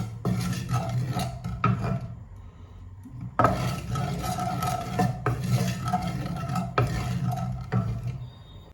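A spoon scrapes and clinks against a pan as poppy seeds are heated and stirred, in repeated bursts with a short pause, close and moderately quiet.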